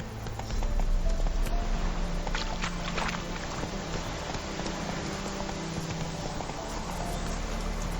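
Rhythmic hoofbeats of a horse galloping in The Witcher 3 on Xbox, steady clip-clop under constant game ambience and music, fairly loud and close.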